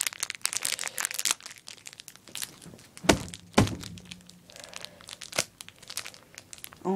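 A female condom's wrapper is being torn open by hand, with close, irregular crinkling and crackling plastic, sharp tearing snaps and a few dull thunks.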